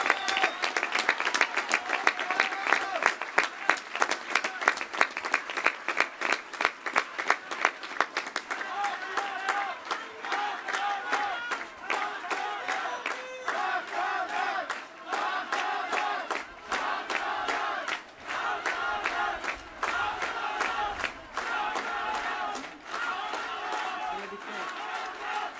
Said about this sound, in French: Il est temps aujourd'hui de les acclamer.